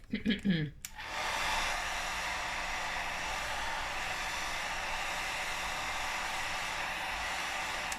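A hair dryer blows steadily and close to dry paint on a paper doily card. A few brief sounds come first, then the blowing settles into a constant airy hiss that runs to the end.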